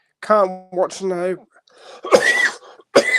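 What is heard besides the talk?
cough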